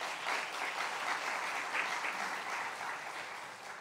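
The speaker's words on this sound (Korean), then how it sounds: "박수 한번 하겠습니다." Applause from a church congregation welcoming two elders of a Korean university, steady dense clapping filling the whole stretch at moderate level, no voices over it.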